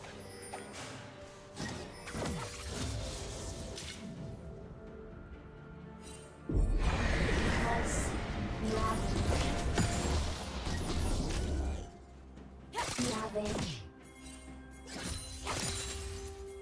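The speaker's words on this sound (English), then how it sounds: "Red team's turret has been destroyed." A turret collapses in League of Legends with a loud, sustained crash and shattering rumble that lasts several seconds, set between quieter mechanical clanks and thumps of the ongoing game.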